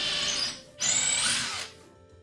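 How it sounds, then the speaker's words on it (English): A power drill bores a pilot hole in wood for Japanese joinery sawhorses, whining in two close, loud bursts separated by a brief pause, with no talking. "I'm drilling a pilot hole."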